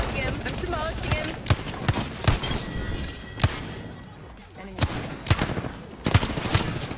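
Rapid bursts of charge-rifle and other gunfire in a fast online shooter match, sharp repeated cracks at close range mixed with game effects, while a player talks excitedly over the action.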